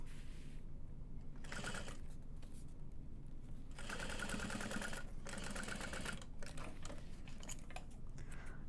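A sewing machine stitches the upper accent piece of a Taylor tote bag in short bursts of rapid needle chatter, with pauses between runs and faint handling noises in the gaps.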